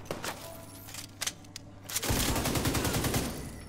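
Rapid automatic gunfire in The Division 2, aimed at an enemy on a turret, with scattered shots at first and then a dense, steady burst of fire that rattles on for a couple of seconds.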